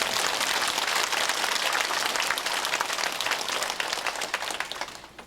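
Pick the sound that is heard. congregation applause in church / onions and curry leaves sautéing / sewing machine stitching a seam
congregation applause in church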